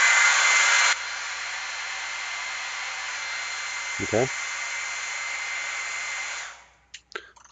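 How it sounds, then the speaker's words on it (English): A hair dryer blows a steady, loud stream of air to hold a ping pong ball afloat. The roar is strongest for the first second, holds even, then cuts off near the end, with a brief spoken word midway. "I'm going to use this ping pong ball and hair dryer to illustrate that."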